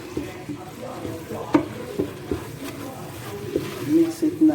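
Kale being stirred in a pot for egusi soup, with soft scraping and occasional knocks of the spoon against the pot, a faint sizzle underneath, and a voice talking over it.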